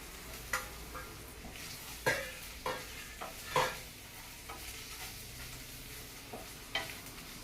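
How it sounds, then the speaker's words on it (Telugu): Soft sizzling of jackfruit pieces frying with spice powder in a pan, with intermittent scraping stirs of a spatula, quiet and close, no voices. "బాగా కలిపేసిన తర్వాత పనసకాయ ముక్కలు కూడా వేసి వేపాలి."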